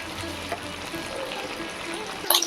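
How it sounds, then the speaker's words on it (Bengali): Beans and flat beans frying in a pan, a steady soft sizzle running throughout with a brief clatter of utensil near the end, moderately loud and close. "যতক্ষণে সবজি ভাজা হচ্ছে"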